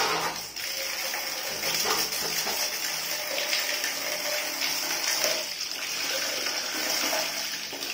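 Steady rushing water pours continuously from a bathroom tap, a broad hiss that stays loud and even throughout with no voices.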